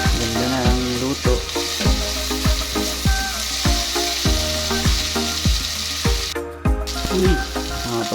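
Chopped tomatoes sauté in a hot pan for ginisang upo, giving a loud steady sizzle with rhythmic scrapes and clinks from a stirring utensil against the pan throughout.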